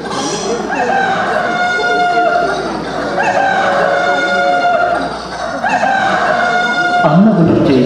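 A rooster crows at dawn in a few long, loud, drawn-out calls, with clucking and other fowl nearby in the background.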